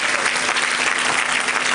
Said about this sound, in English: Doesn't she deserve a round of applause,